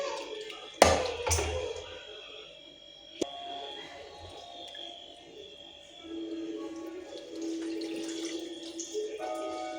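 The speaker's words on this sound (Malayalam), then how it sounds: "നമുക്ക് പുളി പിഴിഞ്ഞ് ഒഴിക്കട്ടെ." Tamarind soaked in hot water is squeezed by hand into water, producing quiet wet squelching and trickling with a couple of sharp knocks and some faint background hum.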